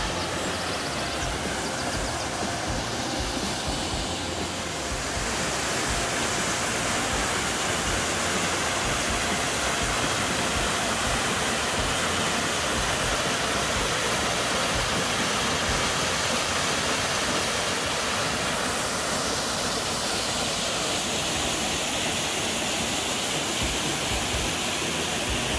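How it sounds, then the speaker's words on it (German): A small stream flowing downhill at the source of the Areuse river, a steady broadband rush of water that stays close and even throughout, with no voices. "Also eine kleine Menge Wasser, die da, das da rauskommt. Und da talabwärts fließt."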